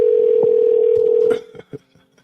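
A telephone number is dialed: a long steady tone, then a few short separate beeps and clicks, close and clear, with no talking.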